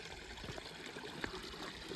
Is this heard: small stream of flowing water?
yes